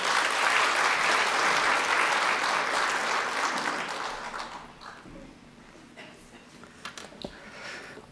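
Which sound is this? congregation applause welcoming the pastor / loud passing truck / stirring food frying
congregation applause welcoming the pastor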